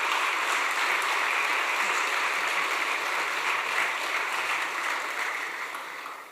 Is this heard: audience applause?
yes